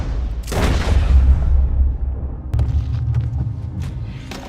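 A single loud, booming gunshot goes off in Red Dead Redemption 2, followed by a long rumbling decay and some quieter clatter afterward.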